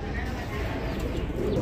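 Pigeons, including a Mundian pair, coo softly in a low rolling murmur close by, with someone talking over them.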